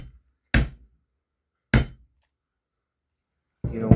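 A hammer strikes an aluminum rivet capped with a washer, giving two sharp, close thunks about a second apart, followed by a brief shuffling noise.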